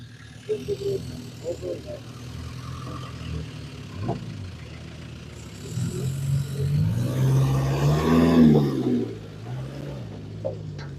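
Car engines rumble and rev nearby during outdoor test drives of vehicles for military use, swelling as a vehicle accelerates past, with voices and crowd chatter mixed in.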